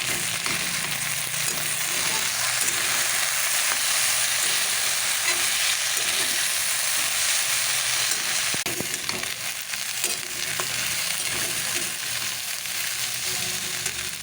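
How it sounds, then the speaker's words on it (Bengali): Potatoes fry in a pan in a home kitchen, giving a steady, dense sizzle that holds loud and even throughout with no talk over it. "এখানে আলু ভাজাটা চাপিয়ে দিয়েছি"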